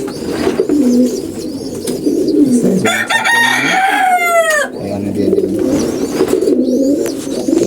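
Pigeons coo steadily in soft, low repeated calls nearby, while a rooster crows loudly once in the middle.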